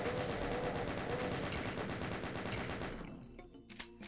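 Chaingun from Doom 2 playing the Avactor wad, rapid evenly spaced shots firing loudly for about three seconds, then stopping, with scattered fainter game sounds after.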